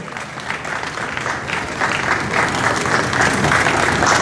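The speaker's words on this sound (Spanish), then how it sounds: "Fuerte aplauso para Arturo." A crowd at a book fair presentation applauds for Arturo with a dense, steady clatter of many hands that swells slightly over several seconds.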